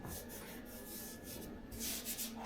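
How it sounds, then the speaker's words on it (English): Soft scraping sandpaper strokes rub back and forth on body filler on a 1976 BMW 2002 panel, quiet and close, with no voices; the filler is binding up. "I started sanding on this stuff here, but a little bit too early."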